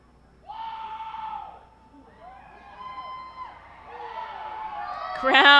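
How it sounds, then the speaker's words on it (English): Fans at a minor-league baseball game between the Harrisburg Senators and the Reading Fightin Phils whoop and shout in scattered bursts, and the noise swells louder toward the end. "Crowd getting loud here for Wendell Rio as a pitch comes way outside"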